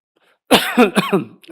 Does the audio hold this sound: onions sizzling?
no